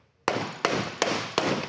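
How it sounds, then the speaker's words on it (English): Hammer blows on the cam plate of a 409 engine block, four sharp metallic strikes spaced evenly, each ringing briefly before the next, close and clear. "we need to hammer in on the plate"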